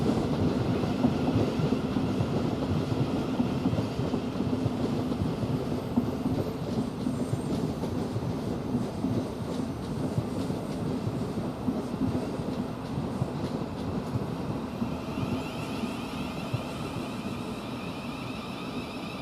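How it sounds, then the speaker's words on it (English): A Thameslink Class 700 train rumbles past close by at Three Bridges station, a continuous loud roar with rhythmic rail clatter that slowly fades toward the end, with no voices. "you get a Thameslink train to 1243 from Horsham towards Peterborough"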